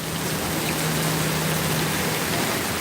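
A steady, dense wash of heavy monsoon rain falls in Sangameshwar, Ratnagiri, Konkan, an even roar with no voices and no break.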